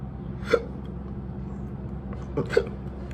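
Two distinct hiccups about two seconds apart come from a person after spicy food, close and fairly soft over a steady low rumble, the second with a quick catch just before it.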